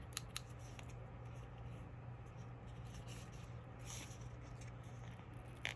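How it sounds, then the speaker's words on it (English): Scissors snip through paper in quick, light, close-up cuts, trimming white edges before laminating, a string of sharp clicks over a faint steady hum from a fan in a quiet room. "So just trimming off all the white pieces so that it looks finished once it's laminated."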